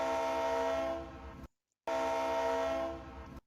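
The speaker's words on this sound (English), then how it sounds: "Trainz horns can be really finicky to work with." A video game train horn from Trainz sounds in two sustained blasts separated by a short silence, each a steady multi-tone chord that tapers at the end.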